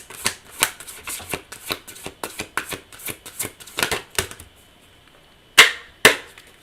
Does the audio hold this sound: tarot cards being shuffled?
yes